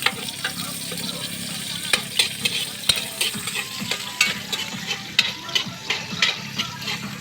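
Onion, garlic and ginger sizzle steadily in a pan in a home kitchen, with repeated close stirring scrapes and clacks over the continuous frying hiss.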